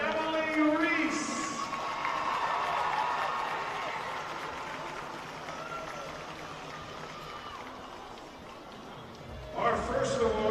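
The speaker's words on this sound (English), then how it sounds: "How about a round of applause for Emily Reese?" Crowd applause for Emily Reese, a cancer survivor, at the Iowa State at Iowa awards presentation, a steady sustained wash of clapping from a large audience that fades slightly before a brief sharper burst near the end.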